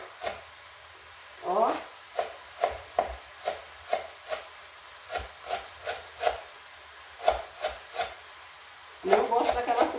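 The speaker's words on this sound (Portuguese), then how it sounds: "vamos picar nosso coentro" A knife chops fresh coriander on a board for a chicken pie filling, giving a steady series of crisp, close taps with short pauses, while a voice speaks briefly at the start and near the end.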